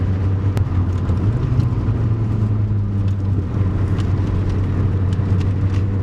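Turbocharged Mitsubishi Evo rally car engine pulling hard out of a corner as boost builds, a loud, steady in-car drone with no voices over it.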